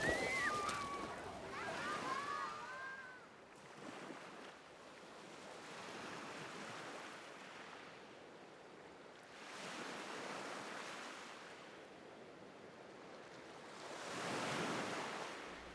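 Sea waves wash onto the shore in slow recurring surges, each swell of surf rising and fading over steady wind noise, with a short bird-like chirping at the start.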